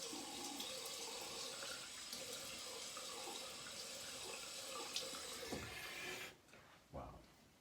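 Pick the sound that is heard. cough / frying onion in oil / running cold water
running cold water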